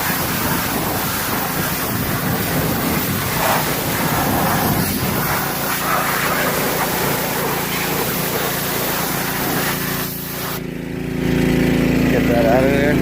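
A pressure washer's steady hiss sprays down a dirty zero-turn mower outdoors, running continuously for about ten seconds before the spray cuts off and a lower hum carries on.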